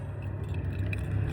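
Keys jangle briefly and metallically at close range by a house door, a short rattle over a low background hum.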